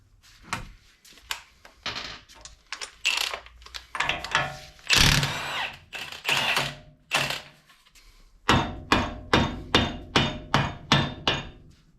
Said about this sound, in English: So we'll have to use the big impact on that.